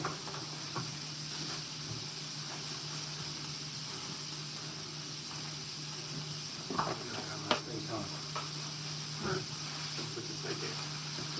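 Steak frying in hot oil gives a steady sizzle and hiss throughout, with occasional knocks and clatter from the cooking.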